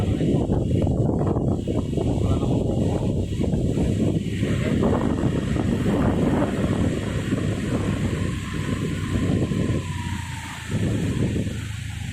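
Strong wind roars steadily across the microphone, a heavy buffeting rumble with no pauses.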